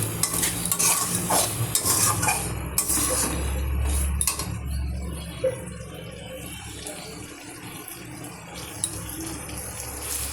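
Pointed gourd and potato are stir-fried with mustard in oil, giving a steady close sizzle while a spatula repeatedly scrapes and stirs against the pan, with no talking.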